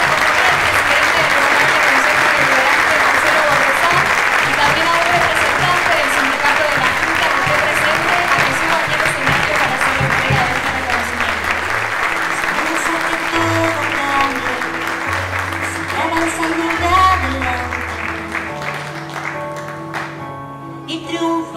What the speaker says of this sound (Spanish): le vamos a brindar un fuerte aplauso entre todos a la señora María Adela Villalba.